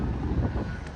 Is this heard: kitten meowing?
no